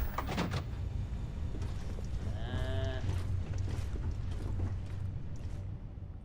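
A person imitating a cow with a short, drawn-out nasal moo in the middle of ongoing noisy background sound, with scattered knocks around it.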